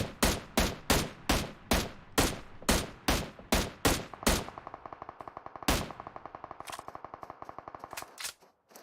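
M16 rifle fire in a PUBG Mobile esports match: a burst of about a dozen loud, evenly spaced shots, then a rapid rattling stream of quieter distant automatic fire with another sharp shot or two, no talk.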